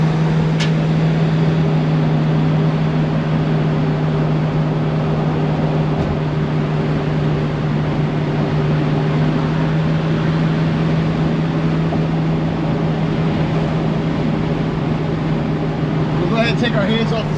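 A 1966 Ford Mustang cruises straight down a road, giving a steady low engine and road drone heard from inside the car for the whole stretch.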